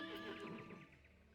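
A Pegasus mount neighs in a video game, one quavering whinny with a trembling, descending vibrato over about a second, fairly quiet and alone.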